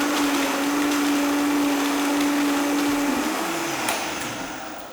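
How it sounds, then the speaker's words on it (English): A blender whirring dates into homemade almond milk runs as a loud, steady motor drone, then its pitch drops slightly near the end, close and alone without talk. "So let's blend in these dates first of all."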